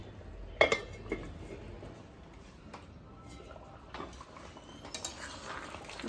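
A spoon scrapes and clinks against a pan while stirring spiced potol and prawn curry with ground garam masala, soft irregular metallic taps and scrapes over a faint low sizzle, with a few sharper clanks.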